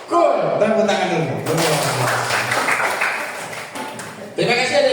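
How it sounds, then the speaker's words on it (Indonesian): Students in a junior high school classroom clap their hands together in a burst of applause, loud and close, mixed with voices and chatter throughout. "Tepuk tangan dulu."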